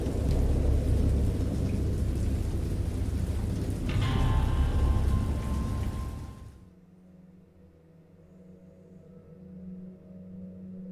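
Heavy rain hisses over a deep, rolling thunder rumble that fades out after about six seconds, leaving only a faint low hum.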